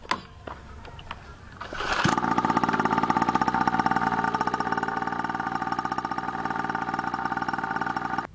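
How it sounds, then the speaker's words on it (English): Nitro Motors DS67 50cc pocket dirt bike engine, a small two-stroke, starts up after a quiet moment and settles into a loud, steady buzzing idle that runs on evenly with a rapid rhythmic pulse. "So now we can start the engine again."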